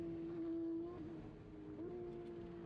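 A race car engine at Circuit of the Americas hums at a steady high pitch, dipping briefly as it shifts, with a continuous mechanical drone throughout.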